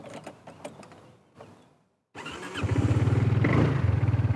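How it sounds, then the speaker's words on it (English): A few mechanical clicks and handling noises, a short silence, then a motorcycle engine cranks and catches, settling into a rapid, throbbing idle. "I'm gonna start the engine."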